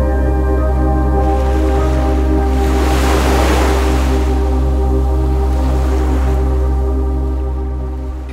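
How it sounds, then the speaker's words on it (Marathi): Ocean surf at Malvan beach on the Konkan coast, facing Sindhudurg fort, rolls as a steady broad wash that swells to a louder crash mid-clip and then eases, with a constant low drone underneath and no voices. "खिडकीतून दिसणाऱ्या दर्याच्या फेसाळ लाटा"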